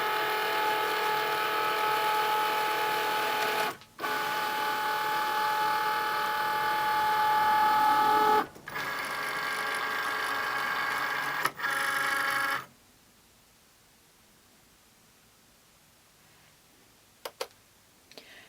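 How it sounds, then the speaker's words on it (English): A Cricut Maker works on a fabric mat, writing and then cutting, with a sustained motorized whirring broken by brief pauses and changes in pitch, then near silence with a few small clicks at the end. "The machine will always do the writing first, and then it will do the cutting."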